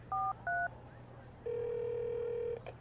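Two short dual-tone telephone dialing beeps from the video game Leisure Suit Larry: Magna Cum Laude, then a long steady electronic tone lasting about a second, ending in a brief crackle; clear and close, no talking.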